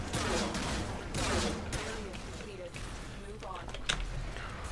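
Gunfire crackles in the Warframe video game as a string of sharp, fairly quiet bursts and shots comes in uneven rhythm, with some busy combat noise behind it.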